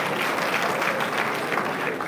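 Audience applause fills a university town hall meeting with council members, a steady dense clapping from a crowd held at even loudness for about two seconds, with no speech over it.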